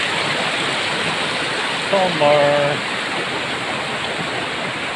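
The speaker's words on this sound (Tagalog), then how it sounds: "Masarap ang agos ng tubig." A river in Aurora Province rushes with a steady broadband wash of flowing water, constant and close, with a brief voice speaking over it.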